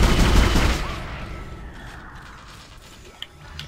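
Gunfire in the survival horror game Dead Space, a loud mechanical burst at the start that quickly fades into quieter clanks and creaks, with a couple of faint sharp clicks near the end.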